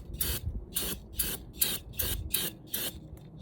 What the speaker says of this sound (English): Spray a little on it to break it up, or try to loosen it up before I run out of brake clean.